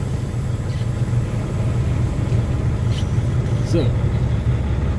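A truck slowly reverses across a muddy parking lot on a rainy day, its engine droning low and constant from inside the cab, with a brief voice near the start.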